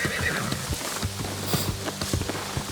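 A horse whinnies while hooves clop in an uneven rhythm, close and fairly quiet, from the video game New World: Aeternum.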